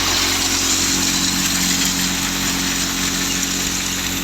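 A 2000-model Fiat 480 tractor engine driving a threshing machine, giving a loud, steady, droning hum with a dense mechanical whir on top, close and constant throughout without a break.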